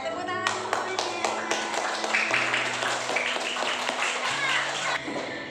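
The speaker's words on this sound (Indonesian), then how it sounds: "Ya, tepuk tangan semuanya." A class of students clapping together, quick uneven claps from many hands, close and fairly even in loudness, with a few voices mixed in.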